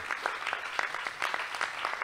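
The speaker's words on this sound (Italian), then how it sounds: "un applauso a Cedric secondo me è doveroso visto che" A crowd applauding steadily, dense overlapping claps at moderate volume with no pauses.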